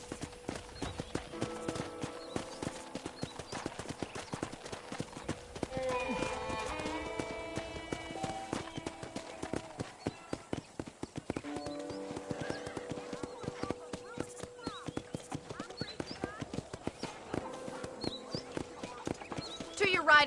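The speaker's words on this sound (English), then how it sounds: "let's see if you can still ride a horse" Horse hooves clip-clop steadily on a ranch in the video game Red Dead Redemption, with rhythmic close footfalls, occasional whinnies, and a person talking over much of it.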